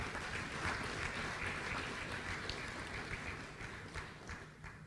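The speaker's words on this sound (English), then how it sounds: "Another round of applause for him" An audience claps in a thick, continuous round of applause that holds steady, slightly distant and reverberant, easing a little toward the end.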